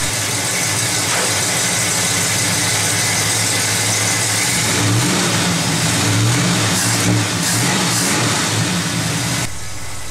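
A car engine fed by a Rochester two-barrel carburetor idles steadily, then takes a few throttle blips that rise in pitch before settling back, close and loud with no talk.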